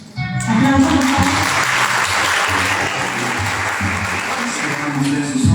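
Audience applause for a university contest team at a municipal innovation workshop for women mayors, a dense, steady crowd clapping that swells in quickly and holds loud throughout, with a few voices faintly mixed in.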